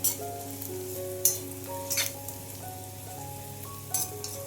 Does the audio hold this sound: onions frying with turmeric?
yes